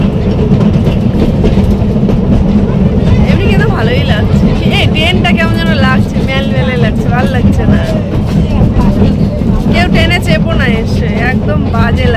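A toy ride train at a water park rolls along with a steady, loud rumble and clatter, with crowd babble and nearby talking running over it throughout.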